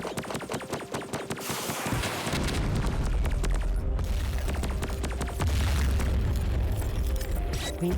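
Game explosions in the space shooter Superverse, a loud sustained booming roar with deep low rumble and rapid crackling bursts layered over dense game effects, no voices.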